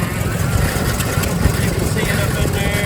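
An old Ford tractor runs at a steady low rumble, close and continuous, its engine chugging with a faint clatter after servicing while it waits to be parked.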